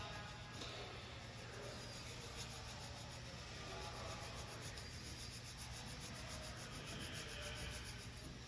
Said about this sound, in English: I'm just filing those edges